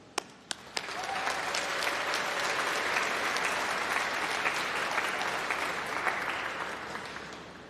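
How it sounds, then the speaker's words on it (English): Applause at a university summer graduation congregation, a few scattered claps that quickly swell into a sustained, dense round of clapping from a large audience in a hall, then slowly taper toward the end. "let's give a huge round of applause and a cheer to say thank you to all of your supporters"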